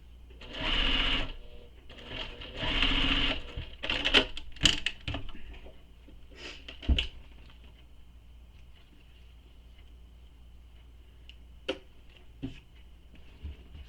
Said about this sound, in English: I'm going to sew this again to baste it in place. Sewing all the way across.